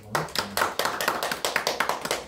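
Church congregation applauding after an infant baptism at an Easter service, a fairly quiet run of quick, uneven hand claps continuing steadily throughout, heard alone.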